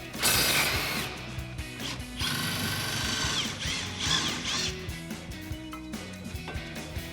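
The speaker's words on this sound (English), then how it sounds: "We're going to need a 15mm socket on an impact and an 18mm wrench for the bottom mounting bolts" An impact wrench with a 15mm socket rattles and whirs as it removes the shock mounting bolts on a 2021-2025 Ford F-150 during a leveling kit install, giving bursts of loud, close hammering broken by brief pauses and clinks.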